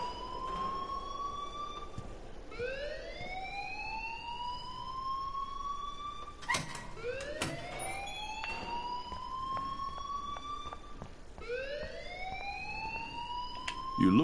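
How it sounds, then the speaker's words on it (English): A rising-and-falling electronic alarm wail in the video game Life is Strange, repeating in long sweeping cycles, fairly loud and alone, with a couple of brief thumps partway through. "please turn off that alarm since that's your job."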